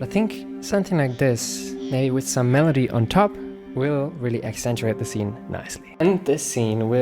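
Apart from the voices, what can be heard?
No distinct noise like a dog, phone or traffic.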